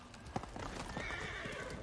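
Hooves clop and a horse neighs in Ghost of Tsushima, a short whinny followed by steady, moderately close hoofbeats against a busy game background.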